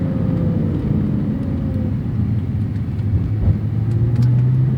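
Porsche sports car engine, a 911 Carrera T or 718 Cayman GTS 4.0 in Sport Plus mode, rumbling steadily with a rising tone near the end as it blips for rev-matched downshifts, loud and close with no talking.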